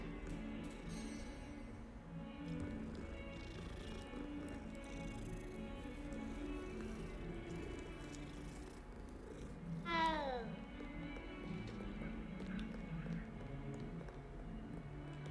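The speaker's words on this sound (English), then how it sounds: "Cat." A cat in the video game Hogwarts Legacy gives a single clear meow that rises and falls around the tenth second, with soft purring and steady game ambience underneath.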